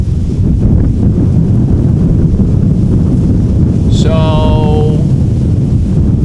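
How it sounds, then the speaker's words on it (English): Strong wind blowing at Amsterdam Schiphol Airport, a loud, continuous rushing roar buffeting the microphone outdoors, briefly joined by a short tonal whine midway, with someone speaking over it. "the wind has increased a little bit"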